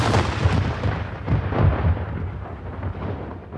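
Musket volleys fired on command in a Bunker Hill battle scene, heard as dense, loud, rolling booms that merge into a continuous rumble and fade toward the end.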